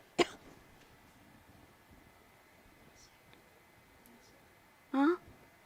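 A woman coughs twice, one sharp cough at the start and a longer, louder cough near the end, separated by quiet room tone.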